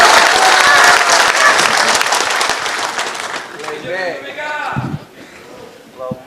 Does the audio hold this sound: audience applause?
yes